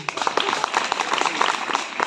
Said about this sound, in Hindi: आप लोगों ने सच बोला इसलिए ताली बजाओ अपने लिए।